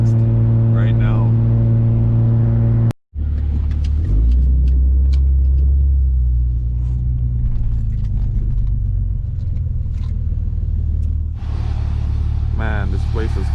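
A loud jeep engine idles with a heavy harmonic drone, cuts out abruptly, then rumbles back to life and keeps churning close by, with a brief rev near the end.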